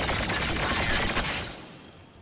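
Fast automatic blaster fire in Star Wars Battlefront with auto-strafing, a continuous dense burst that fades out after about a second and a half.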